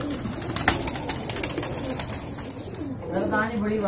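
Rampuri pigeons coo softly at a pigeon club loft, a low repeated murmur with wing flutters and bird chatter beneath someone talking nearby.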